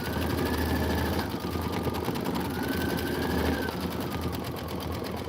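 Embroidery machine stitching out an appliqué design, a steady, fast needle chatter with a low motor hum running throughout at a constant level, close by and uninterrupted.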